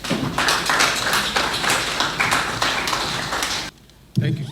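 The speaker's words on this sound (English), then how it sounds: "give him a round of applause" Steady audience applause at a tribute event, dense claps filling the room for several seconds before stopping abruptly, followed by a brief low voice.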